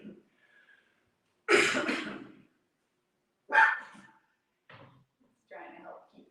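Puppies give several short, loud bark bursts spaced apart over a quiet room at a yoga class, each yap sharp and close with brief gaps of silence between.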